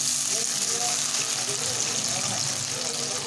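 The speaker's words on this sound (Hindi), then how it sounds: "अब हमें कढ़ाई के अंदर इनको छोड़ देते हैं।" French fries drop into a kadhai of hot oil over low gas, producing a loud continuous hiss and bubbling sizzle that holds steady throughout.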